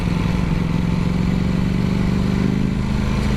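A Ducati Panigale V4 motorcycle engine drones steadily and loudly while riding, a dense continuous rumble with wind noise and no speech.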